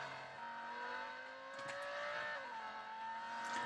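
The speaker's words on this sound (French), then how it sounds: "Nous sommes en train de pousser le V10 à fond" The Lamborghini Huracan V10 in the racing game Real Racing 3 is pushed flat out, a faint, steady high engine whine rising in pitch, dropping at a gear change, then climbing again.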